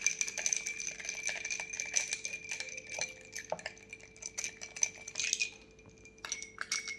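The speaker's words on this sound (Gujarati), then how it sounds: "અને હવે એક વખત એમાં આપણે ચમચી હલાવી લેશું." A metal spoon stirs kokum sharbat in a glass, giving a steady run of small clinks and scrapes for several seconds with no talk over it.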